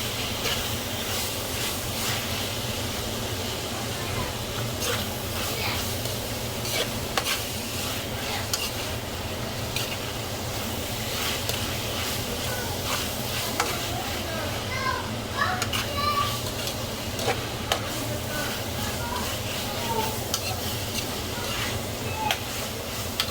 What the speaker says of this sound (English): As you can see, it's frying.